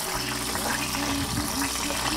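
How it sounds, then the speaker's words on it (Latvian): Water runs and gushes steadily into a roasting pan holding duck fat after 20 minutes at 240 degrees, a continuous close pour with a bubbling, sizzling edge. "tagad pieliešu ūdeni."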